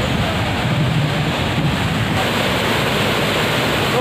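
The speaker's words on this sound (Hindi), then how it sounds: "देखिए मेरे पीछे तरफ का वाटरफॉल देखिए बहुत ही खूबसूरत" A large waterfall at Dikrutpi in Karbi Anglong, a picnic spot: a loud, steady wash of rushing water fills the scene without letup, broadband and unbroken, with some wind buffeting the microphone.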